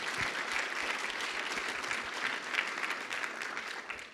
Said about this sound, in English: so we'll just clap for them right now